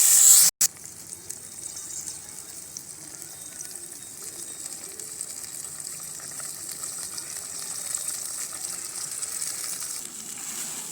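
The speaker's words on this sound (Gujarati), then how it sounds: "તો તેમાં આપણે 1 વાટકા જેટલું પાણી ઉમેરી દઈશું." A bowl of water poured into a tomato curry (tamatar sabji) with cooked spices, giving a sharp clatter at the start followed by a steady low sizzle and bubbling, close and moderate.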